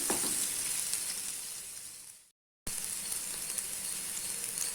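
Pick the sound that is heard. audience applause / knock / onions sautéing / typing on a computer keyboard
onions sautéing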